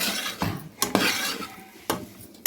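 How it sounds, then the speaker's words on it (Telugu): Cooked rice is stir-fried in a pan for egg fried rice, with a metal spatula clanking and scraping against the pan in a few sharp strikes over a soft background sizzle. "ఇలా ఒక రెండు నిమిషాలు ఫ్రై చేసుకుంటే"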